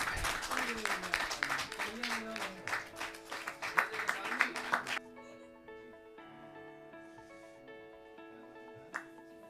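At a Hindi poetry gathering, scattered applause for children rises under a voice talking for the first half, then gives way to quiet sustained musical tones with a single faint clap near the end.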